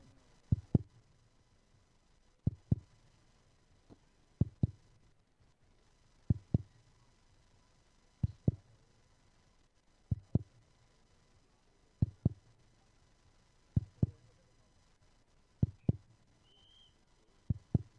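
A heartbeat sound effect plays during a pending third umpire decision in a cricket league final, a slow, even double thump repeating about every two seconds over a low hum.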